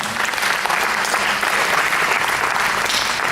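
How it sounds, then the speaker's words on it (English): An audience at a charity fundraiser gives a steady, dense round of applause, loud and continuous throughout with no break. "Can you give him a big round of applause"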